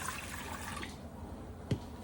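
Warm water, 1.5 cups, pours into a bowl for bread dough as a steady rush that stops after about a second, followed by a single faint drip or clink.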